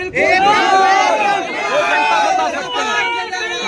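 A large crowd of supporters gathered at an election nomination for PACS chairman in Aurangabad Sadar block, Bihar, shouting and cheering loudly and continuously nearby, a dense roar of overlapping voices throughout.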